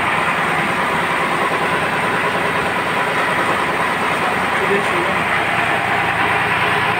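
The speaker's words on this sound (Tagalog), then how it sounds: "Itong makina na ito" A turbocharged diesel engine on a Roro ship in Surigao, fitted with a fuel combustor, runs steadily in the engine room, a loud, dense, unbroken mechanical roar with a low pulsing rumble throughout.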